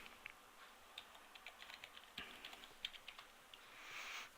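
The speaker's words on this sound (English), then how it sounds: "once we've keyed in the password" Someone types a password on a computer keyboard in quick, light, irregular keystrokes. The sound is close and quiet and there is no talk.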